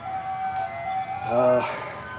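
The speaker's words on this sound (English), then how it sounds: "ice cream truck going by" An ice cream truck passes by outdoors, its tinkling tune faint at first and then swelling briefly louder as it goes past.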